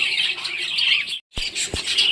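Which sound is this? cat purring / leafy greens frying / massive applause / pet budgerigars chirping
pet budgerigars chirping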